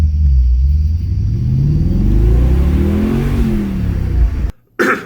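A supercharged Audi V8 wagon with a 2.5-inch true dual exhaust revs up and down in a deep, loud rumbling sweep, close by, then cuts off abruptly before a brief final burst.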